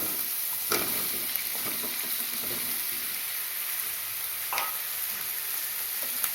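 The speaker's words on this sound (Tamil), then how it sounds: "இப்போது கத்திரிக்காய் சேர்த்துக்கிறேன்." Brinjal pieces sizzle steadily in a hot pan for a traditional South Indian stir fry, a dense continuous hiss with a few brief stirring scrapes, close and fairly loud, and no voices.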